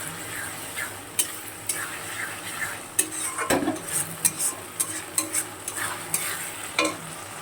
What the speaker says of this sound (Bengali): এটা আর একটু বেশ 2 থেকে 3 মিনিট কষাবো।